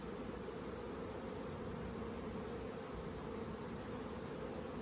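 Honeybees swarm over a honey frame during harvest, making a steady, dense buzzing drone that holds constantly at low level throughout, with no talking.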